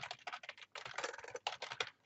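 Rapid, close keystrokes clatter on a computer keyboard in uneven bursts with short pauses, typed alone with no voice.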